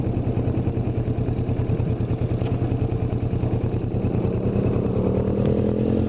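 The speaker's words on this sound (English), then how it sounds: "So, dude on a Chinese dual sport." A Chinese dual sport motorcycle passes nearby with a steady, rapid engine thrum that stays loud throughout and rises slightly in pitch toward the end, with no talk.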